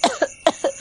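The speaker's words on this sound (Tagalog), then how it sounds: "Pero napapaubo-ubo pa rin ako ng konti." Four quick, sharp coughs in close succession, near and fairly loud, muffled as though a palm is pressed over the mouth, with no other sound between them.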